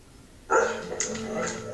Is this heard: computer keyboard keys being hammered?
no